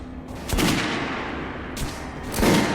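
Gunfire from weapons in Metro Last Light Redux, played on hardcore: three loud, sharp broadband bursts spaced about a second apart, each trailing off into a dense, noisy shooter soundscape with no talk.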